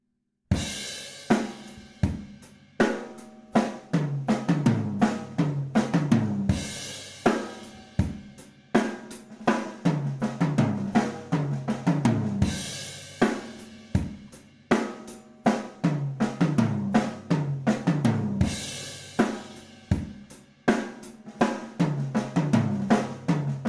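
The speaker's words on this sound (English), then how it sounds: "I will fill in all the rest with ghost notes on the snare drum." A drum kit plays a steady groove with soft snare ghost notes filling between accented hits, loud and close, repeating over several bars with no talking.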